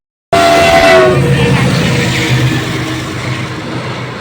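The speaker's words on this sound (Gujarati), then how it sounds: "હવે ટ્રેનનો અવાજ આવે" A loud train roars past close by at a level crossing, a brief horn sounding at the start before the rumble and clatter slowly fade.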